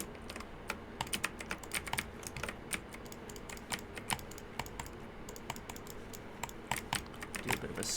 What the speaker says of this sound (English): mouse and keyboard sounds.